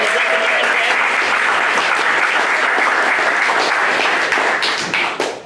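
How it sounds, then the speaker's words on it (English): A crowd applauds loudly and steadily, dense clapping that holds for several seconds before thinning out at the end. "Let's give them a round of applause."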